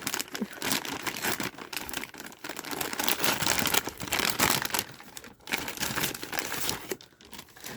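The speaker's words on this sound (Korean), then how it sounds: "자, 요거를 한번 뜯어볼게요." A random box package of character goods is torn and unwrapped by hand, with loud close crinkling and crumpling of plastic wrapping coming in irregular bursts and brief pauses.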